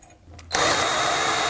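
A power tool tightens control arm bolts on a 2010-2019 Ford Taurus rear suspension, starting after a quiet moment with a sudden loud, sustained whirring drive that continues close up.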